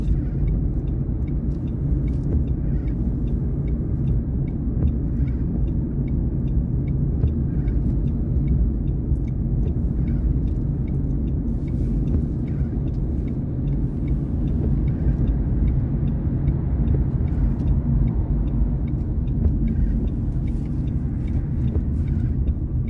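Car driving along a French country road with a downshift during a driving-test practice drive; a steady, loud low engine and road rumble runs throughout with no talk.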